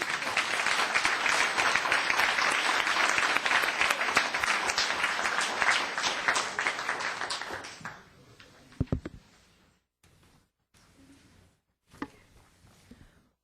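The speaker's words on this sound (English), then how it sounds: "Another round of applause." A town council meeting crowd applauds with a dense burst of many hands clapping for about eight seconds, then fading to a few scattered claps and small noises in a quiet room.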